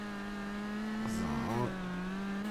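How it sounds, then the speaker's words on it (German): A red Roamer car driving in the game BeamNG Drive, with a steady engine drone that swells briefly partway through, heard up close. "Ist nicht so schnell der Wagen, wie ich ihn in Erinnerung hatte"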